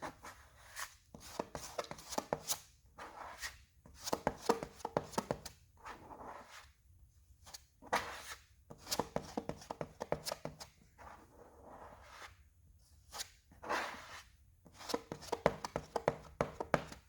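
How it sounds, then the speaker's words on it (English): Auto body filler being mixed with hardener on a board for a wrecked Kia Optima, a series of close scraping, slapping spreader strokes in uneven bursts with short pauses between them. "Putting a nice glob of hardener on there. Alright, and let's get to mixing."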